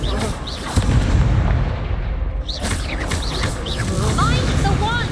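Dense, roaring blasts of an Incendio fire spell in Hogwarts Legacy, a sustained crackling rumble with whooshing bursts, the casting voice shouting through it.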